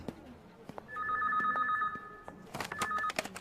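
A telephone rings in repeated electronic trill bursts, the first long ring fairly loud and steady, followed by a second shorter ring amid clatter and a brief voice nearby.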